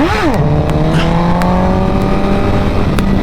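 Honda CBR1000RR motorcycle accelerating in second gear, its engine note dropping briefly after a quick shift, then climbing steadily as a loud, close, rising whine with no one speaking.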